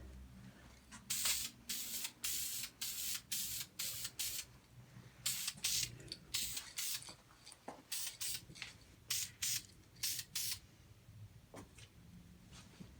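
Duplicolor Metalcast spray paint hisses onto metal in about a dozen short, close bursts. The bursts come in an uneven rhythm with brief pauses between them, and no one speaks.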